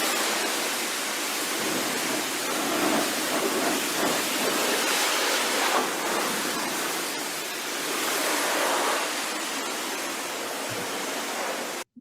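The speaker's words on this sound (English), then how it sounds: "Car wash." Steady, dense rush of spraying water from a running car wash fills the whole stretch at an even, fairly loud level, broad and hissing like heavy rain or a waterfall, then cuts off abruptly at the end.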